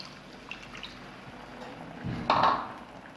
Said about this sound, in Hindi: अब मैं इसमें ऐड करूँगी 1 कप पानी।